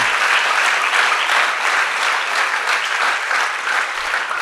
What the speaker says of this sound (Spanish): Ya el aplauso está disminuyendo